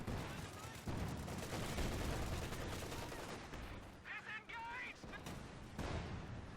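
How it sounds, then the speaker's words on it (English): Kubelwagen being destroyed in the World War II strategy game Company of Heroes 2, heard as a loud, dense burst of explosions and gunfire amid continuous battle noise, with a voice talking over it. "That sounded like the Kubelwagen going down"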